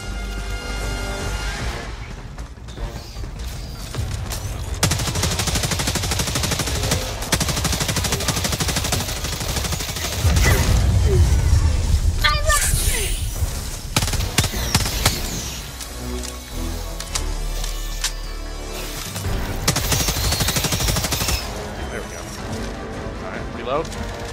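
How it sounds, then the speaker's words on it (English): Autocannon fire in Helldivers 2 during a fight at a Shrieker nest, heavy repeated shots booming loud and close over a dense battle din of explosions and gunfire, with a player talking over the action. "I have the auto cannon."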